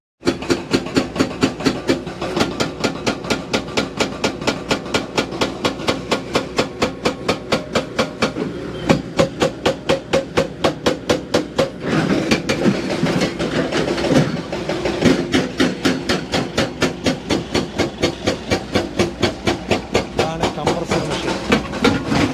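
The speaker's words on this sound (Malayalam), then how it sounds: "ഈ ഒരു കംപ്രഷൻ മെഷീൻ ഉപയോഗിച്ചുകൊണ്ട് ഓട്ട ഇട്ടതിന് ശേഷം ഓരോ ഹോളടിച്ചതിന് ശേഷമാണ്" A compressor-driven rock drill bores holes into hard black granite at a cutting site. It makes loud, rapid, evenly spaced hammering that continues without pause, with a slight change in tone midway.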